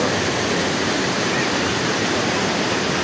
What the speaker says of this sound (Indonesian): Ini aliran Sungai Cibentar.